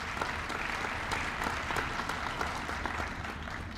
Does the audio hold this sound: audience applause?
yes